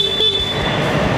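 A single short, thin electric horn beep from an Aprilia SR GT200 scooter sounds close by, a steady high tone lasting about a second.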